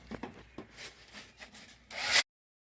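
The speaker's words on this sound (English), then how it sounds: "drill a hole in each of these" A hole saw on a drill at a low setting grinds and rasps through a dry birdhouse gourd shell, scratchy bursts building to a louder whirring cut before stopping abruptly.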